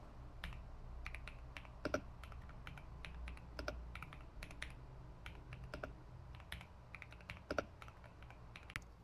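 Fingers type on a mechanical keyboard in scattered bursts of soft, muted clacks, fairly quiet over a low rumble of nearby road traffic.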